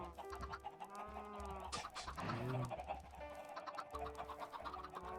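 Minecraft chickens cluck over and over in short, busy bursts, several birds overlapping close by with no voices.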